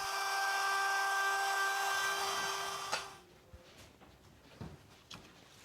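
A router with a quarter-round bearing bit rounds over the edge of a wooden rack piece: a loud, steady, high whine for about three seconds that cuts off, followed by a few faint knocks and handling sounds.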